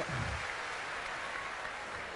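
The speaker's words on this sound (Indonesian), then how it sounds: "kasih tepuk tangan dong" Faint, distant-sounding clapping from a university audience at a live on-stage talk show event at Universitas Syiah Kuala in Banda Aceh, an even wash of applause with no voices on top.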